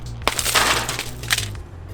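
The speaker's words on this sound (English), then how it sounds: "see if it'll bust it, and give you an example of this glass buster." A Wuben TP10 glass breaker pen strikes and smashes glass, giving a sharp crack followed by a dense burst of crunching, tinkling shards lasting over a second, close and loud with a steady low hum beneath.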